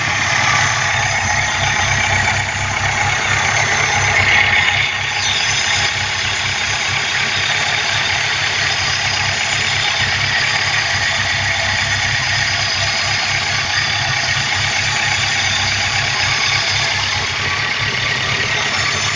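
A car engine with a cleaned carburetor idles smoothly at a steady, even rumble, close and loud, with no voices over it.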